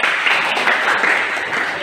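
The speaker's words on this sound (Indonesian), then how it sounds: "Tepuk tangan" A classroom of students claps together after a teacher's lesson during a school teaching practice session: dense, even applause that stays at a steady level for about two seconds, close and lively.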